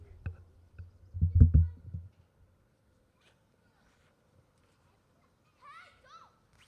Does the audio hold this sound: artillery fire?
no